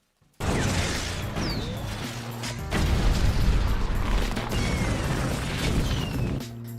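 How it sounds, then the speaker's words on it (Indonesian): Ants fire firecracker weapons in an animated battle film: a loud, dense, continuous barrage of crackling bursts, booms and clattering mechanical noise that swells midway. "para semut hitam langsung menggunakannya dan menyerang pasukan semut merah dengan semua senjata petasan mereka"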